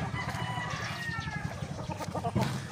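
Chickens cluck in a busy, overlapping chorus at close range, with a brief louder squawk near the end over steady farmyard noise.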